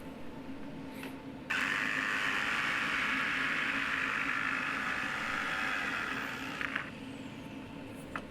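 A power saw plunges into plywood, a steady high whine running for about five seconds at moderate distance before cutting off, with quiet room noise around it.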